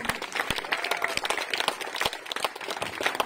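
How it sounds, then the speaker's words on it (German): Concert audience at the Pax Terra Musica 2023 peace festival gives the artists a round of applause, individual claps standing out sharply in an irregular, lively patter. "Nochmal einen riesen Applaus für die Künstler."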